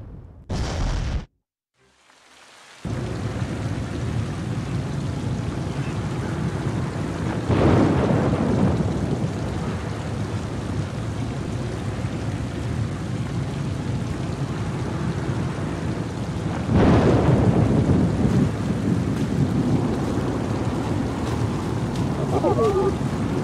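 A stormy night in the game Oceanhorn 2 brings continuous heavy rain and surf-like wash. Deep thunder rolls in twice and swells over the steady downpour after a brief silent gap near the start.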